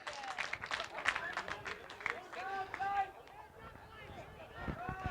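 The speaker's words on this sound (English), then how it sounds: "and the crowd are going nuts" A crowd at a BDAFL Australian football match between Maitland and Wyong cheers loudly and continuously, with shouts and excited voices rising and falling throughout.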